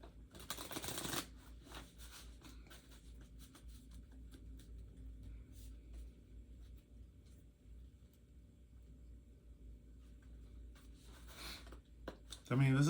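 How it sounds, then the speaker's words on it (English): Rider-Waite tarot cards being shuffled by hand, a soft continuous riffling and sliding that runs quietly throughout, with a brief louder burst at the start and a thump at the end. "Let's pull some more cards for my traditional Rider-Waite deck."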